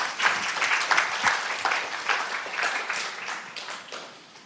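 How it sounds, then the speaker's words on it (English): An audience at a science lecture applauds a volunteer coming down from the back of the hall, with sustained, full applause from many hands that stays strong and then eases off slightly. "Can we have a round of applause?"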